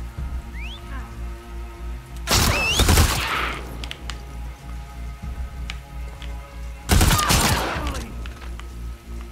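Gunfire in The Last of Us Part 2, two loud bursts of shots a few seconds apart over a steady low game ambience with faint background noise.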